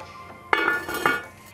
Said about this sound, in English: cover our pot so that traps the heat and helps it get to boiling temp